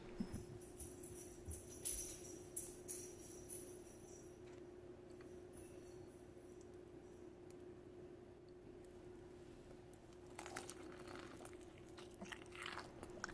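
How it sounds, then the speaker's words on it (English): Biting into a crunchy homemade egg roll dipped in duck sauce gives close, crisp crackles at the start, then quieter chewing over a low steady hum, and another burst of crunching near the end. "Let's give it a good dunk in this duck sauce and hear that crunch."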